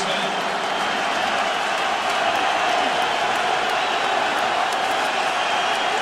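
Crowd noise fills a Syracuse football stadium during a Pitt at Syracuse game, a steady broad roar of fans rising from their seats that holds loud and constant throughout.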